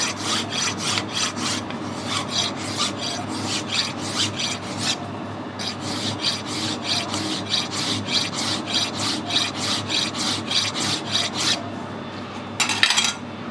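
Emery tape polishing a Stuart engine crankshaft in a restoration workshop, a steady continuous scratchy rasp of rapid back-and-forth strokes, close and loud, with a brief harsher burst near the end.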